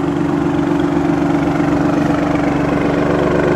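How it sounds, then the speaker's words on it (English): A 2018 Alfa Romeo Stelvio Quadrifoglio engine idles with a deep, steady exhaust rumble, loud and close, holding an even throb throughout. "leave the quadrifoglio on so that you could actually hear the rumble of the exhaust"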